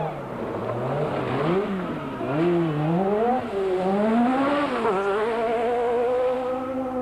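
A 1986 Rally NZ rally car drives through a ford, its engine rising and falling in pitch as it revs through gear changes, loud and steady for several seconds.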